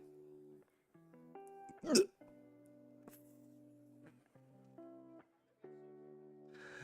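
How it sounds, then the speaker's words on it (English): One sharp hiccup from a person near the microphone, loud and abrupt, set against steady tonal background music. "I don't know if hiccups are getting caught mic or not though."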